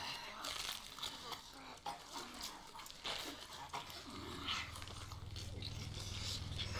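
A dog whimpers and yelps in a television drama scene from the season two finale of The Walking Dead, mixed with background noise, music and voices.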